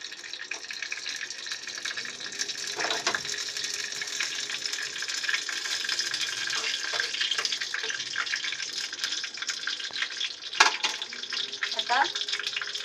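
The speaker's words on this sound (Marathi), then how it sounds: "फोडणी थोडी होऊ द्या, तडतडू द्या राई आणि जिरं" Mustard and cumin seeds crackle in hot oil for a home-kitchen tempering, a continuous bright sizzle broken by scattered sharp pops and small bursts of spattering throughout.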